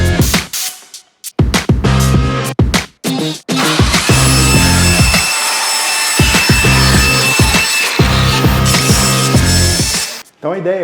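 A plastic PET-bottle rocket nose cone being cut and trimmed by hand, with repeated rasping, sawing strokes in bursts separated by short pauses, close and loud.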